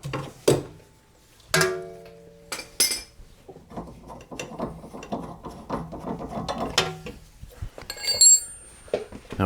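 A sway bar link comes off a Pontiac GXP during a coilover install, with close ratchet clicking, metallic clanks and rattles from tools and parts in irregular bursts over several seconds.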